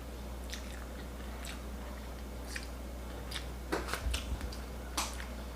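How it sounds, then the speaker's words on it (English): Crunchy pork slices in palakbet, a Filipino vegetable dish with ampalaya, being bitten and chewed close to the mic, with a few sharp crisp crunches scattered over a low steady hum and a cluster of louder bites near the end. "The pork slices are really crunchy."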